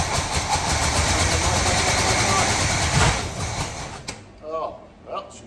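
1968 Chevy Caprice engine running roughly with a loud, uneven rumble that cuts out abruptly, followed by a person talking.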